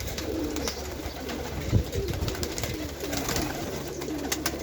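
Pigeons coo repeatedly at close range, low soft calls in a steady rhythm over faint background noise, with no talking.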